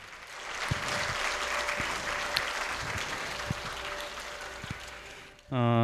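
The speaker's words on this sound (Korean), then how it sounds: "참여하신 모든 분을 박수로 환영해 주시기 바랍니다." Audience at a Seongnam education district forum applauds to welcome participants, sustained moderate clapping with a few sharper claps, ending as a voice begins over a microphone.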